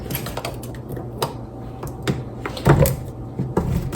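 A 14-ounce can of sweetened condensed milk being opened in a kitchen, giving a run of close, sharp metallic clicks and taps, the loudest cluster near the end, with no talking.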